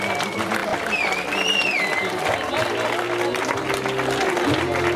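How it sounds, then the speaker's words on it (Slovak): Crowd applause at the Continental Pustý hrad trail running race in 2018, a steady wash of clapping from a gathered audience, fairly close and even, with an announcer's voice and a whistle-like tone over it. "jeden veľký potlesk, aplaus."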